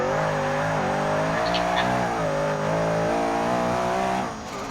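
A car fitted with the biggest available engine, racing in the Forza Motorsport 6 video game, holds a loud, steady high-revving roar with shifting pitch for several seconds, dipping briefly near the end.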